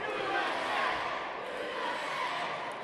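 A wrestling crowd at a PPW event in Hazleton, Pennsylvania chants steadily, a dense, diffuse roar of many voices heard from a distance, continuous throughout at moderate loudness.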